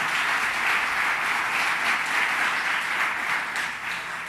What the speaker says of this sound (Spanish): Creo que eso merece un aplauso